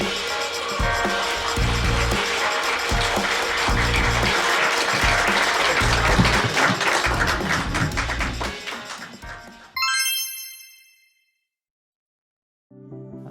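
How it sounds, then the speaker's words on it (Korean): Loud, sustained applause from a large audience at a lecture for about ten seconds, then it stops abruptly and a brief chime rings out before silence. "기업가 정신을 주제로 어, 강의를 해주실 심상동 스타키 그룹 회장님을 여러분들 큰 박수로 네, 모시도록 하겠습니다."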